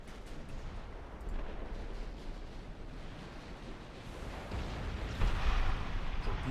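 Naval guns fire in a dreadnought-era warship battle game, heavy low booms and rumbling blasts rolling over a dense background roar, with a louder burst near the end.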